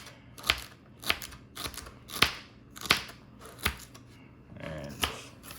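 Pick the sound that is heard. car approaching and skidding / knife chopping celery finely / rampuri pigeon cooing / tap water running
knife chopping celery finely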